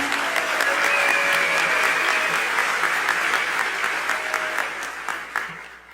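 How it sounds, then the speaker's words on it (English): Audience at the NMPA Awards applauds for Jody Gershon, a full, sustained roll of many hands clapping that tapers off toward the end. "can we get a round of applause for Jody Gershon?"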